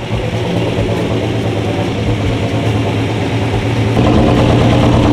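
A BMW E46 fitted with an LS2 V8 runs on a dyno, a loud, continuous low engine drone that grows slightly louder near the end.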